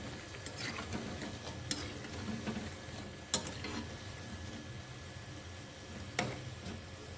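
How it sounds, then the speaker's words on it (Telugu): Idli batter punugulu frying in hot oil, a soft steady sizzle with occasional sharp pops and ticks, fairly quiet and close, no talking. "వేగటానికి ఒక 5 minutes పడుతుంది."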